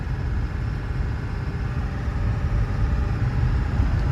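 A Ford 7.3 Powerstroke diesel truck engine idles with a steady, loud, low clattering rumble, continuous and alone with no talking.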